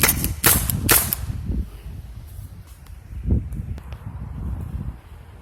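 Umarex TR50 air pistol, third cylinder: two sharp shots fire close together near the start, with a softer pop a few seconds later and faint handling noise between.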